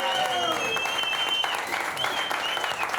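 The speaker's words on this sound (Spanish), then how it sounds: "Un aplauso" Sustained applause from an audience during a tribute at a screening event, dense steady clapping throughout with tonal music or voice lines running underneath.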